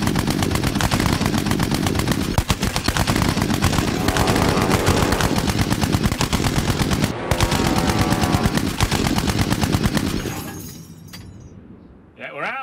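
Twin machine guns in a Lancaster bomber turret firing at about 2,400 rounds per minute: a loud, continuous, rapid hammering burst lasting around ten seconds that then cuts off and trails away.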